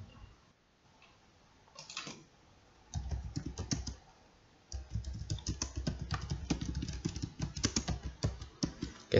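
Fast typing on a computer keyboard, close clicky keystrokes in irregular bursts separated by short pauses, growing busier toward the end, with no voices.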